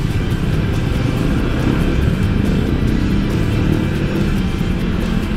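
Seth's motorcycle on a night ride along Daang Hari, Alabang, gives a continuous loud engine drone mixed with rushing wind, holding a fairly even pitch rather than sharp revs.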